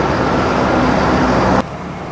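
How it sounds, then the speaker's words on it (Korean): A car rumbles and rattles over an old cobbled road in the town of Banská Štiavnica, Slovakia, loud and continuous, then the noise drops off abruptly near the end. "옛날 길이라 차들이 두들거리고 가죠."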